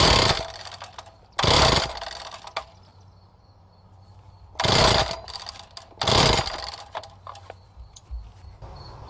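A Wacker concrete saw's engine is being started, though it never catches: four short, loud bursts of sputtering firing, each lasting about half a second, separated by quieter stretches of low background rumble.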